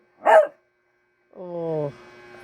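A pet dog being offered bread gives one short sharp bark, then after a pause lets out a longer whining, whimpering cry with a faint hum trailing behind, close to the microphone.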